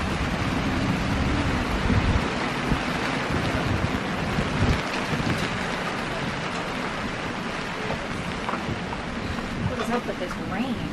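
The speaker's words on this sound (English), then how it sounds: "What is up with this rain?" Steady heavy rain hisses throughout on a sailboat, a dense broadband wash with no pauses, and voices talk faintly beneath it.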